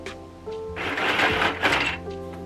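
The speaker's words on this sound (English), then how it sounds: "I'm going to try to sew a piece of scrap fabric." A sewing machine stitches scrap fabric in a short, close whirring burst of about a second and a half, with a soft hum before and after.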